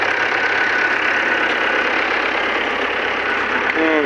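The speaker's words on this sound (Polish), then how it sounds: "Wycinak wycina. Wycina powoli, bo jest mało gazu dane." A loud, steady John Deere 2130 tractor engine drone at low throttle with a low mechanical grinding underneath from a silage block cutter slowly cutting corn silage, running continuously close by.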